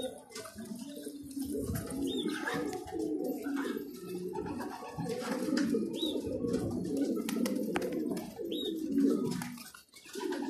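Pigeons coo in low, rolling, overlapping calls, close and continuous, with a few faint higher chirps scattered among them.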